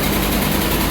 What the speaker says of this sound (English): Okay, so she's running. Valve lifters are a little noisy